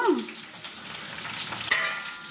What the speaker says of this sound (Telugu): జీలకర్ర ఉప్పుని తిప్పుదాము